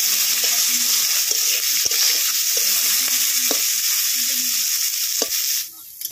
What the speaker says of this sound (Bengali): এবার তেলের উপরে পেঁয়াজ কুচি আর টমেটো কুচিটা দিয়ে দেবো। দিয়ে একটুখানি খুন্তিটা দিয়ে নাড়িয়ে নেবো।